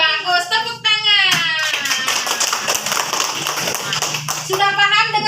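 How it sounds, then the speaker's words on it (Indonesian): Schoolchildren clap their hands together in a classroom Quran lesson, a brief burst of quick claps between the teacher's and children's voices. "Tepuk tangan."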